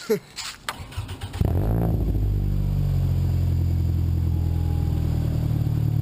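A 2008 Scion xB engine cranks over after a few faint clicks and catches, then settles into a steady, loud idle heard from inside the car.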